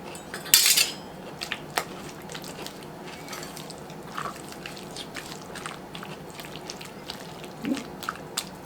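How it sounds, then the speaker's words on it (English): A fork clinks sharply against a bowl of chilled summertime salad during tasting, one bright clatter near the start, then scattered faint taps and soft scrapes at close range. "I'm going to get a fork and taste of it."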